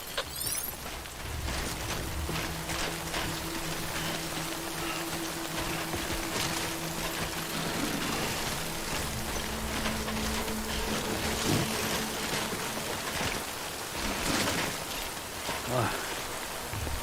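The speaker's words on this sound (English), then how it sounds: "Good thing it was raining." Steady rain patters across a scene in the video game Death Stranding, a continuous hiss of drops running throughout with a low droning hum beneath and faint voices at times.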